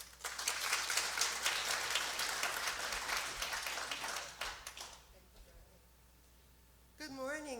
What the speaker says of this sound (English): I'd like to give a warm round of applause to Dee Seidel